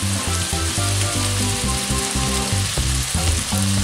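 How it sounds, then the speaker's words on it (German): Bacon sizzles loudly with onions and peppers in a pan, a dense, continuous close-up frying crackle that never lets up, with occasional stirring scrapes. "Nach 2-3 Minuten schmoren kommt unser Speck dazu."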